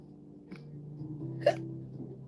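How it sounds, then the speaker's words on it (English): A single sharp hiccup from a person pops out close and clear midway through, over a low steady background hum. "I got the hiccups."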